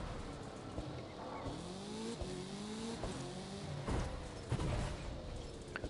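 A car in The Crew 2 accelerates on snow, its engine revving up through rising pitch sweeps with gear changes, along with thumps and faint tire noise, at a fairly quiet level.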